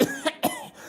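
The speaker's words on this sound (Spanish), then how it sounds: "¿Hace mucho tiempo que tiene usted esa tos?" A person coughing in a short burst of about three harsh coughs in quick succession, close and fairly loud, with no speech.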